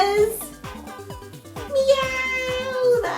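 A storyteller's voice imitates a cat's meow in a drawn-out, sing-song tone while reading a farm story.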